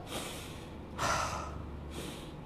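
A man teaching Malay Sufi mysticism demonstrates breathing with three audible breaths, one at the start, a stronger and louder rushing exhale in the middle, and a softer one near the end, all close up with no words.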